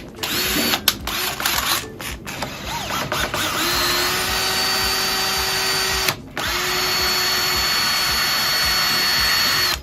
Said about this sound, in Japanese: こういう分厚い鋼材だったらタップが折れることがあるんで、こういうタップハンドルっていうのを使うんですけど、僕はいつも こういう充電ドリルでいくんですね